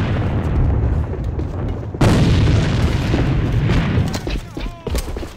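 Grenade blast in a Counter-Strike style first-person shooter, heard as a sudden loud boom that rumbles on under game noise and other clatter, with a voice speaking nearby.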